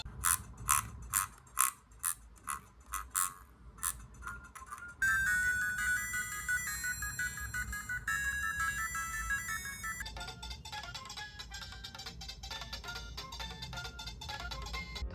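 Ringtone melodies play through replacement speakers fitted to an R36S handheld game console, first a series of short repeated chirps, then two sustained chiming tunes in turn, fairly loud and close with no talking.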